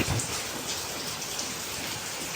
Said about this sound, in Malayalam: മഴ മഴ മഴ ഗംഭീര മഴ